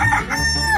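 A rooster crows once in a short, bright, brassy call, close and clear, from a cartoon-style animal sound effect.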